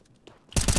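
Gunfire in a competitive CS:GO match, a loud burst of several rapid close shots arriving abruptly after a quiet stretch with faint background game noise.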